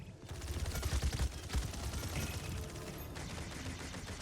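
A champion's base gun fires rapidly in the Paladins video game, a dense, continuous stream of punchy shots with heavy low thumps over busy game noise and no speech.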